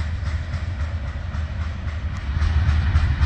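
A Union Pacific freight train rolls straight through without stopping, a steady low rumble with faint rhythmic rail clatter and hiss, continuous and fairly close throughout.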